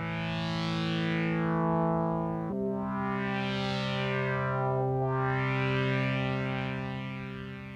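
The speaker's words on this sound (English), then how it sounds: "if we pull up the attack and decay a lot, we can get a pad sound." Mr. Touchy, a Teensy-based polyphonic touch synth, plays a sustained pad with long attack and decay: thick layered tones swell and hold, shift to a new chord partway through, and carry a sweeping chorus-like shimmer with no voices.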